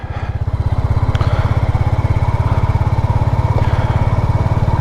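A Royal Enfield Classic 350 motorcycle engine runs close by with a steady, rapid single-cylinder thump, loud and even, with faint background noise.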